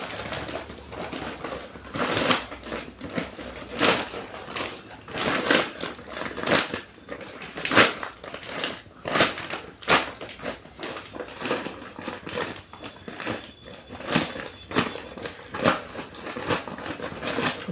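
Plastic rice bag being folded and crinkled while being turned into a grow bag: repeated close crackling and crunching rustles in irregular bursts throughout.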